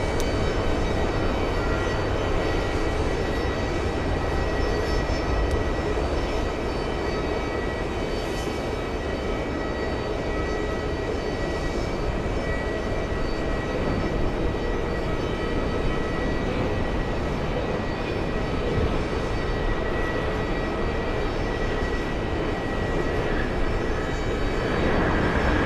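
A British Airways Boeing 777 at JFK airport produces a steady, broad jet engine roar that holds at a constant level throughout, heard from a distance with no talking.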